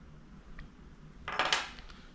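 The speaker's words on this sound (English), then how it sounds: "Now I'm going to take my knife and just separate that double-sided tape." A knife slicing apart double-sided fletching tape for wooden arrows gives a brief, faint scratchy rasp that swells for about half a second, then fades back into a quiet room.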